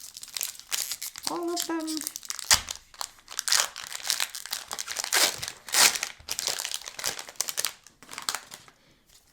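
Foil wrapper of a Magic: the Gathering Theros Beyond Death booster pack crinkles and tears in close, bursty handling, with someone talking briefly partway through.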